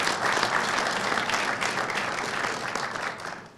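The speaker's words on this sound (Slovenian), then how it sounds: "Aplavz za vse naše žene tukaj." Sustained applause from the audience at an agricultural cooperative conference in Portorož, a dense, even roar of many hands clapping that holds steady and tapers slightly toward the end.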